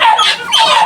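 A dog barks and yips in quick, high-pitched bursts, fairly close and loud, with no other sounds around it.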